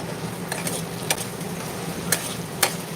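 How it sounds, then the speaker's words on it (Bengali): A pot of Bengali fish head curry being stirred with a spoon, a few soft scrapes and clinks over a steady low simmer, close by with no talking. "এটা আমি একবার আর একবার নাড়িয়ে নেব নিচে কিন্তু বসে যাওয়ার সম্ভাবনা থাকে তো নাড়িয়ে নিচ্ছি একবার"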